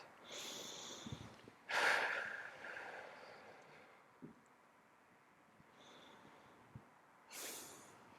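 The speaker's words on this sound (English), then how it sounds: "And maybe just starting with a few deep in and out breaths." Slow, deep breaths in and out during a guided self-compassion meditation, soft airy rushes spaced several seconds apart, close and quiet, with one sharper inhale standing out.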